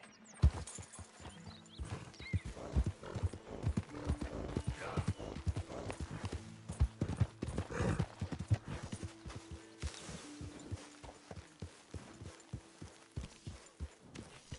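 Horse hooves clop steadily with an occasional whinny, layered over faint background sounds from the video game Red Dead Redemption 2.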